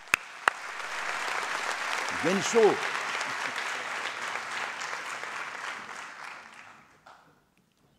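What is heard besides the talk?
applause for the deputy mayor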